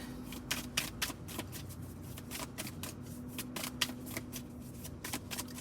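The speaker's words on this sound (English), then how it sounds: "I'm like aggressively like shuffling up out these cards." Tarot cards are shuffled vigorously by hand, close up, in rapid repeated riffling bursts that keep a steady rhythm throughout, with no talking over them.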